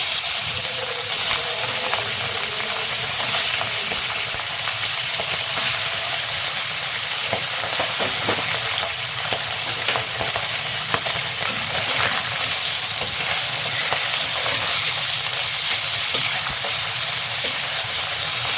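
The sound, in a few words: fish frying in white oil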